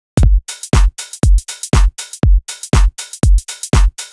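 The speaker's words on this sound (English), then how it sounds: "slightly after the beat, everything will sound a little bit more laid back." A programmed Cubase drum beat with every hit pushed a touch behind the grid, giving a laid-back feel; crisp kick and snare strikes topped with hi-hat wash repeat steadily, loud and dry, no talking.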